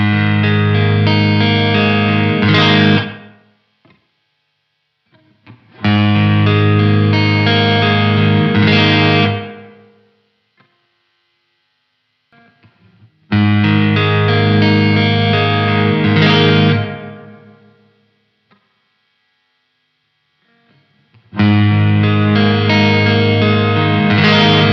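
An electric guitar runs through a Keeley Omni Reverb pedal on its spring setting while the dwell knob is swept, giving distorted strummed chords in four loud bursts with decaying springy reverb tails between them.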